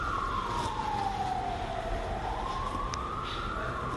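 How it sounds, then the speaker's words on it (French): An emergency vehicle siren wails through city streets in Morocco, a single steady tone sliding slowly down and then back up, moderately distant under a constant traffic hum, with no talk. "Tu entends les sirènes qui sont en train de parcourir dans les rues"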